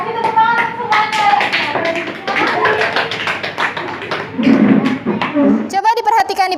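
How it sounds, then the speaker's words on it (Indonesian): A classroom of children claps in a short burst of scattered taps and thuds, mixed with loud talking and children's voices throughout. "Kasih tepuk tangan untuk semuanya."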